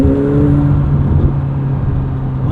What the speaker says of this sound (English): Hit the launch button. Boost building. And go for it.